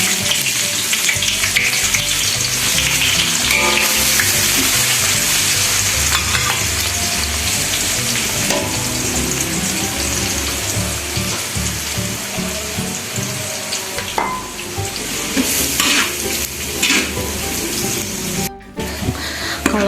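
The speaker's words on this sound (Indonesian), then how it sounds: "Setelah minyaknya panas, ini langsung saja goreng bawang putih dan bawang merahnya." Garlic and shallots fry in hot oil, a loud, dense, continuous sizzle with occasional stirring scrapes and clatters, steady for the whole stretch.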